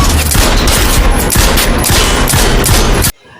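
Rapid volley of gunfire from a film scene set in a shooting class, loud dense bursts of shots continuing for about three seconds before cutting off abruptly to near silence.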